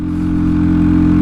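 A Hero XPulse 230 motorcycle labors up the high-altitude Tanglang La pass, its engine a steady, loud, close drone that slowly builds in strength without a break.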